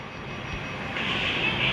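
A helicopter in a video game mod gives off a steady engine drone that grows louder and brighter over a brief stretch.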